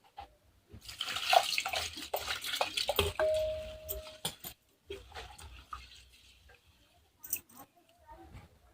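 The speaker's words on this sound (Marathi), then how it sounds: "परत अजून एक पाण्याने मी स्वच्छ धुवून घेते तांदूळ" Soaked rice is rinsed with fresh water in a pot, giving close sloshing, splashing and squishing bursts of water that come and go, loudest early and trailing off into quieter scattered splashes, with no voice.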